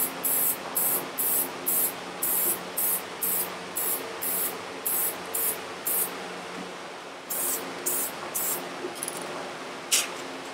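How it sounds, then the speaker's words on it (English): Medium adhesive goes on in a light coat from a spray can during goat show fitting, a run of short sharp hissing bursts in steady rhythm, pausing briefly around the seventh second before a few more bursts, close and alone. "we'll give it a light coat of adhesive"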